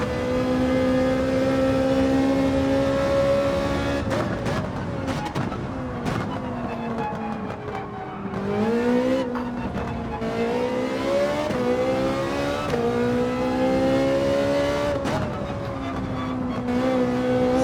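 A Ferrari engine in Gran Turismo 7 revs hard and loud, its pitch climbing and dipping as the car accelerates out of corners. The engine is heard alone throughout, with no talking.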